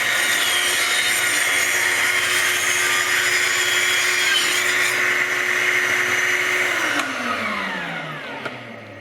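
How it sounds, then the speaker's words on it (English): A Proxxon power saw cuts straight across a workpiece while a shop vacuum runs alongside, a loud steady whine and roar throughout that spins down near the end. "I'm going to turn on the vacuum and this at the same time, and we're going to cut straight across."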